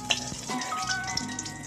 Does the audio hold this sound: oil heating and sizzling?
yes